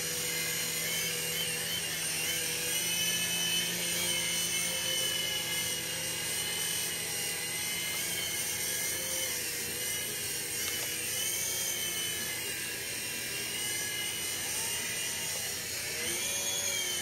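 A Titan T505 RC helicopter flies close by in a tight spot, its steady high-pitched rotor and motor whine running continuously and fairly loud, rising and falling slightly as it maneuvers.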